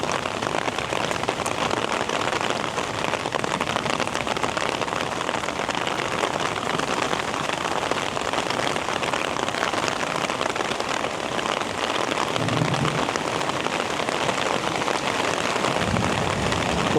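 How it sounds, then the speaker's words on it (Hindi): Heavy stormy rain pouring in a jungle, a loud, dense, unbroken roar of drops on surfaces lasting throughout. "हाँ, इतनी बारिश हो रही है"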